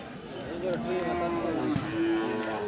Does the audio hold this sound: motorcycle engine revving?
no